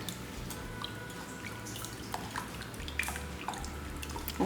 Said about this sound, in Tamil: நல்லா தண்ணி ஊற்றி நல்லா கழுவிக்கலாம்